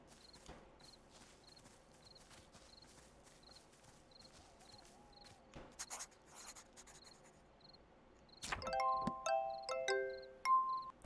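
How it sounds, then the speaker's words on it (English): A silver star bell flower in the video game Little Witch in the Woods gives a mellow bell-like chime, a bright cluster of tonal rings near the end over soft ambient game music and faint repeated ticks. "This silver bell-shaped flower also produces a mellow sound like that of a bell."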